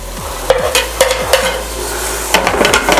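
Cooked beef is stirred into masala in a cooker, loud close scraping strokes of a spoon against metal in an uneven rhythm over a constant frying sizzle.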